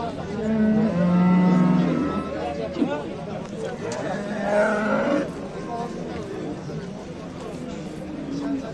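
A cow lets out a deep, drawn-out moo nearby at a cattle sale, while people talk in the background and other low calls follow.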